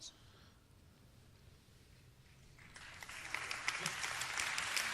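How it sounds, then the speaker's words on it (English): Scattered, lukewarm audience applause at a tech conference rises after a quiet start, building into a steady patter of claps for the last couple of seconds. "Tepid applause."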